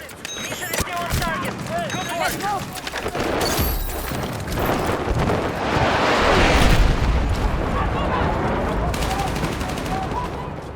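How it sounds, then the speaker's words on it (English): Dense, chaotic gunfire and booming blasts from the video game Battlefield 6 roll on continuously, with bursts of rapid shots and a rising rumble of explosions throughout. "Just listen to the explosions and chaos."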